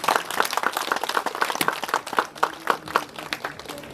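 Scattered, lively hand clapping from a crowd at a wedding ceremony, moderately close and continuing steadily for several seconds with uneven rhythm.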